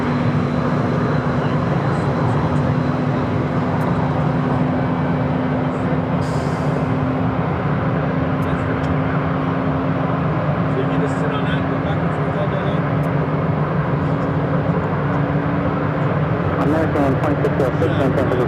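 An American Airlines Airbus A320 jet taking off at Phoenix airport, a loud continuous engine roar with a steady low drone throughout, under overlapping radio voices.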